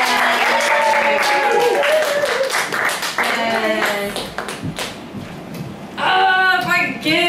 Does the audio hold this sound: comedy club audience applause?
yes